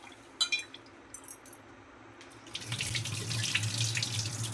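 Rice rinsed in water at a kitchen tap while cooking kheeri; a few light clinks and drips come first, then a steady rush of running water fills the second half, close and fairly loud.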